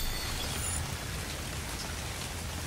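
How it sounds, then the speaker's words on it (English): Steady rain in the survival game ARK falls as a dense, even hiss, close and constant throughout with no voices over it. "I'm cold because it's raining and I don't have any clothes on."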